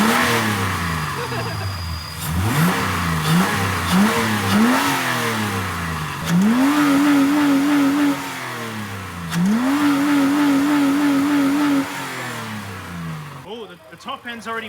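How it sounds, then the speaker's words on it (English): A car engine running on Vegemite in place of oil is revved repeatedly, rising and falling pitch sweeps with a couple of held high revs, loud and close, with voices talking over it. "Give her a rev."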